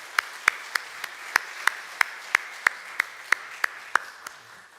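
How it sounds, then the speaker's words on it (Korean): A church congregation at a Sunday service claps together in unison, producing a steady rhythmic beat of sharp, crisp claps about three per second in a quiet room, fading out after a dozen or so strokes. "우리 수고하신 분들 위해서 다 같이 박수 한번 쳐주겠습니다"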